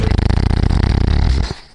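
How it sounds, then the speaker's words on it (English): A dog snores loudly and close in a log cabin, a rapid rattling rumble of breaths that fades out at the end. "with a snoring dog."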